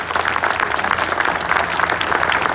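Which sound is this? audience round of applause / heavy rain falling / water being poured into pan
audience round of applause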